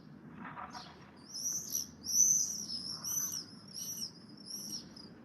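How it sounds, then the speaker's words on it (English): Several high, shrill screaming calls of a swift repeat in quick bursts overhead, fairly faint against a soft background hum. "You hear that screaming call, that's distinctive of the swift."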